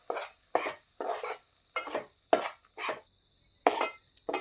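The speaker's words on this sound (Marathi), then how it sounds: "ह्या उरलेल्या तुपात मी हे एक वाटी गव्हाचं पीठ घेतलेलं आहे हे चांगलं असं गुलाबी रंग येईपर्यंत भाजून घेणार आहे" A spoon stirs wheat flour roasting in ghee in a pan for dinkache ladoo, giving about a dozen rhythmic scraping strokes against the metal, each a short dry swish with brief pauses between.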